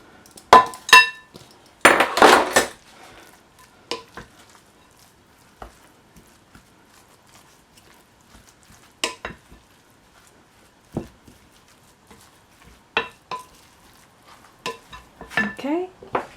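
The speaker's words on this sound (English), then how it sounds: "So I'm just going to add the coconut in." Grated coconut is added to sweet potato and stirred for doucana, with scattered clinks, knocks and scrapes of a utensil against the pot between quiet stretches, busiest near the start.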